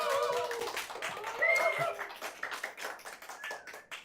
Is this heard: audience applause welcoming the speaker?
yes